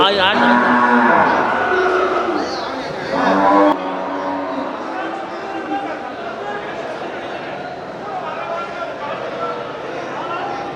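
Cattle at the Paramakudi cattle market low with strong, drawn-out moos, loudest in the opening seconds, over a steady murmur of crowd chatter and traders talking nearby.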